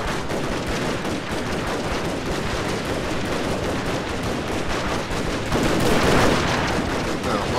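Musket and rifle volleys roar through a Total War: Shogun 2 – Fall of the Samurai battle as a dense, unbroken crackle of massed gunfire that stays loud throughout and swells slightly near the end.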